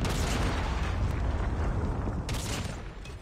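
A Predator missile strikes in a Call of Duty match, a loud rolling game explosion that roars and rumbles for a few seconds and then slowly fades, with no talking.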